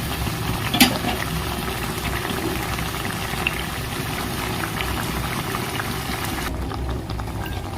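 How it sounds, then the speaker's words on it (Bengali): Mourala fish curry simmers in a pan with a steady, bubbling boil and soft sizzling, continuous and close, with a couple of sharper pops and a slight drop in hiss near the end. "মোটামুটি খানিক সময় একটু ফুটিয়ে নিতে হবে"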